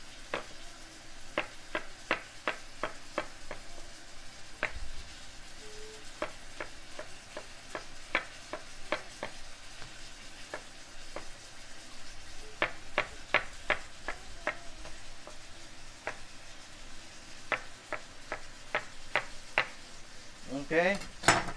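Utensils clink and scrape against a pot as tomatoes are stirred into a braised Provence-style chicken, a steady series of sharp metallic taps over a low background hiss, ending in a quick flurry of scraping near the close.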